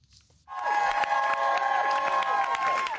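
A crowd bursts into loud applause and cheering as Vice President Harris arrives at her campaign office in Wilmington, Delaware, rising suddenly from near quiet and holding at a dense, sustained roar of claps.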